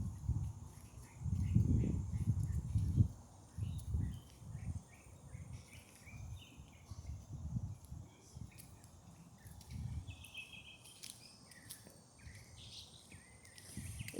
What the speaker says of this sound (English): It's the birds, it's the wind.